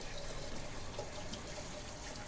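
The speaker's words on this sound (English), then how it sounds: "we're going to rinse off all the salt" Cool tap water runs steadily over salted onions in a kitchen strainer, a soft continuous hiss and splash, close and fairly quiet, without talk.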